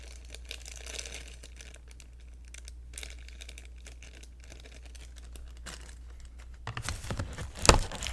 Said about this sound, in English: Anyway, the keyboard's wrapped up in plastic.